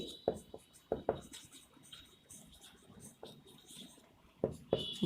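Quick scratchy pen strokes on a board during a biology lesson, arriving in short irregular bursts with brief pauses between them.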